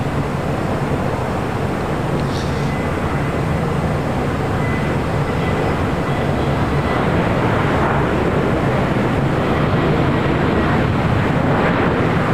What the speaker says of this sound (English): We do have Hawaiian Airlines Flight 9, the A330-200 heading to Honolulu, heading up for a north side takeoff.